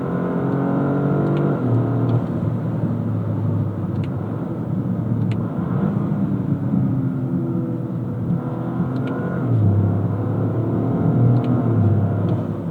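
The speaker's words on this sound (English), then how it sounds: "both the upshifts and the downshifts are not bad for a torque converter" Engine of a 2025 Toyota GR Corolla Premium with an automatic torque-converter transmission, heard from inside: a steady loud drone that rises and falls through smooth gear shifts, with no talking.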